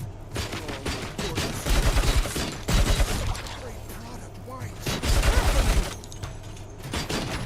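Enemy UED robots in the RoboCop: Rogue City video game pour out rapid, continuous gunfire, with heavier bursts punching through the steady crackle of shots throughout.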